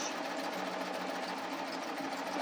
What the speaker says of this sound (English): It's just basically serging through there.